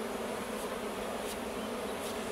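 Honeybees swarm over spilled nectar pooled at the bottom of a hive, giving a steady, dense buzz from close by that holds unbroken with no one talking.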